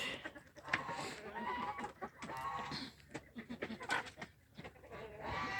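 Chickens and young chicks on a free-range farm cluck and peep in short, scattered bursts, fairly close but quiet, with brief rustling between calls.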